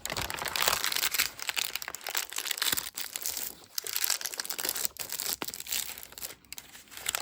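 Tracing paper for a junk journal is crinkled and crumpled close by, a dense run of crisp, bright crackles and rustles in uneven bursts with short pauses, no talking.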